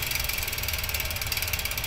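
A ratchet tightens the bolts on the ISD tabs of an MRP bicycle chainguide, producing a rapid, continuous metallic clicking up close and loud, with no talking.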